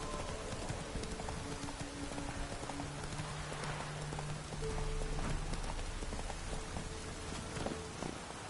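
Horse hooves clip-clopping steadily from Geralt's horse Roach in The Witcher 3, a continuous trotting rhythm over faint rain-like patter and a low sustained music bed, with no talk.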